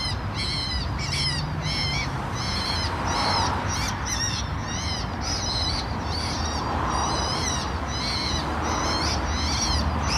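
A recorded bird of prey's call, played in vineyards in Valais, Switzerland to scare off other birds, repeats in regular shrill bursts, evenly spaced, over a steady background hiss, sounding like a loudspeaker.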